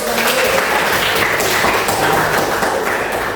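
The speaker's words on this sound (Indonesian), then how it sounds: "tepuk tangan dulu" A class of students claps hands in a classroom lesson. The clapping is dense and loud, with scattered taps and thumps mixed in throughout.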